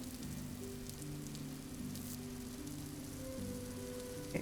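Steady rain pattering down in the Vintage Story survival game, a soft continuous hiss under quiet tonal game music, with no voices.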